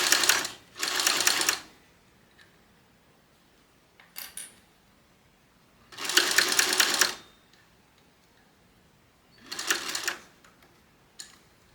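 Sewing machine stitching a wristlet strap, running in several separate bursts of steady rapid stitching, each lasting about a second, with quiet pauses between them.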